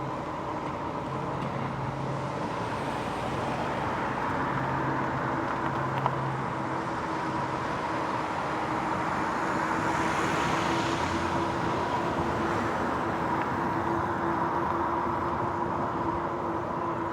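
Heavy trucks rumble along the road just ahead of an ebike rider, a steady broad traffic drone with engine hum lasting throughout, no talking.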